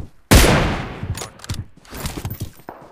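Gunfire from the mobile battle-royale game PUBG Mobile: a loud, sharp shot bursts out, followed by a rapid string of quicker, fainter shots in an uneven volley.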